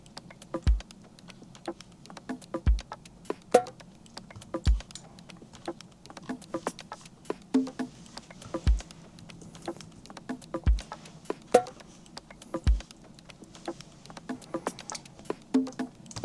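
Electronic dance-track percussion of toms and foley hits: deep booming tom thumps land at a steady pulse about every two seconds, surrounded by busy, crisp clicks and ticks in a tight looping rhythm, with no voices.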